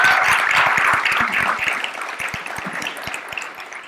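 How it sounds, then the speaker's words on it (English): An audience at a star-studded music app launch evening applauds, a loud dense wash of clapping that fades slightly over a few seconds. "Let's have a round of applause."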